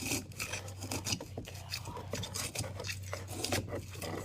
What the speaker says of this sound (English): one of my tools I use is a nice sharp knife, and just go around the plant base of the pot here